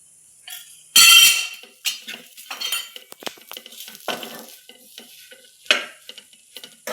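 Masala fried with mutton saaru powder is stirred in a pan, close metal scrapes and clinks coming in uneven bursts over a faint background sizzle.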